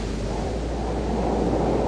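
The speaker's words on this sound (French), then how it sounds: "il faut faire vraiment attention aux vagues ici parce qu'il y a vraiment des grosses déferlantes" Large waves breaking on a shoreline in a continuous low roar of surf that builds slightly over two seconds, with no voices present.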